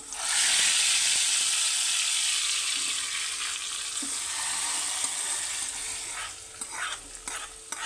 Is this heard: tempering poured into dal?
yes